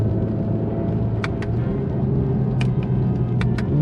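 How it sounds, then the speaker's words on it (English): A 2017 Honda NSX in Sport Plus mode runs under hard throttle, giving a steady, loud, close engine drone with no voices over it. "the first time I've put my foot down in this car"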